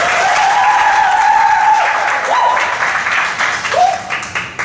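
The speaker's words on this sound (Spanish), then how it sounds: "Un fuerte aplauso." Audience applause at an advanced technology seminar, a sustained wash of clapping with a tonal whistle-like tone on top, gradually thinning toward the end.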